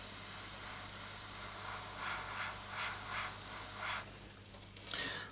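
Aerosol paint sprays in a steady, loud hiss onto an old, tatty piece of plastic card, holding for about four seconds before cutting off, with a brief quieter burst after.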